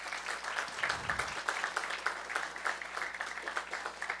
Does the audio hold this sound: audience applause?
yes